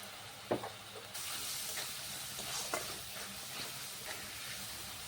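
Ground spices frying in a pan as a splash of water is added for a Bengali potol malaikari, giving a sharp hiss that settles into a steady, close sizzle with faint stirring.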